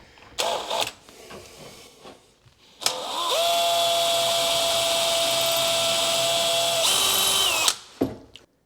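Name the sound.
power drill drilling through cabinet face frame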